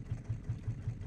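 A raft engine running on biofuel in the Raft survival game, a low, steady idling chug with an even pulsing rhythm, close and moderately loud, with no voices.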